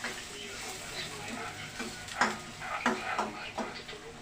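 Onion sautéing in a pan after garlic, with a soft steady sizzle and scattered clinks and scrapes of stirring, moderately close, with faint talk in the background.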